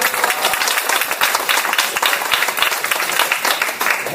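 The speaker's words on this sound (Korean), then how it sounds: "박수 좀 보내주세요." Audience at a priest's lecture on Don Bosco's Mariology applauding a couple about to marry, dense sustained clapping filling the room without a break, no talk.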